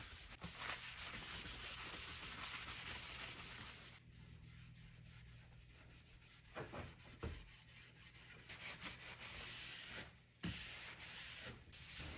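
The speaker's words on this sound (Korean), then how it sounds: "한쪽 면을 다 칠하면 바로바로 바로 닦아내줍니다." Freshly applied paint is wiped off a monitor stand with a cloth, giving continuous close, soft rubbing and scrubbing strokes with a few faint taps along the way.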